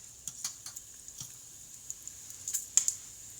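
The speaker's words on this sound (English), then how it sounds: "Add some mustard seeds in, and as you can hear them, they start spluttering." Mustard seeds spluttering and popping in about a teaspoon of hot oil inside an Instant Pot, a quiet, irregular scatter of small sharp pops and ticks.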